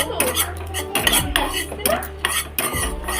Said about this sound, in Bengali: খুব গরম হয়ে গেছিলো বলে একটু চামচ দিয়ে নিয়ে ঠান্ডা করে নিচ্ছি